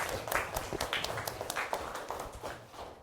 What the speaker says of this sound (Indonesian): Kita berikan apresiasi dulu, aplaus dulu.